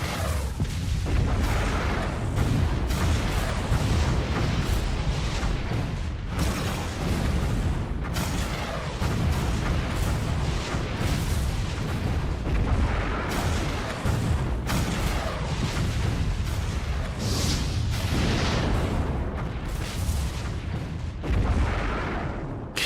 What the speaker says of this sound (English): countless explosions erupt, heralding the beginning of a catastrophe